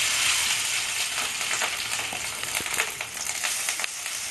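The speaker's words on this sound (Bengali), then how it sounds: "মাছের ডিম কড়াই দিলে একটু ফোটে" Fish roe fries in a pan after a tempering of fenugreek, nigella and fennel seeds, giving a loud, dense sizzle crackling with small irregular pops and spits throughout.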